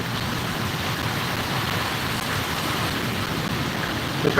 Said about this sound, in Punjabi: ਮੀਂਹ ਬਹੁਤ ਜ਼ਿਆਦਾ ਆ